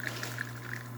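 Espresso from a serviced ECM Technika Rota machine trickles and drips from a bottomless portafilter with no drip tray, a steady faint liquid patter over a constant low machine hum.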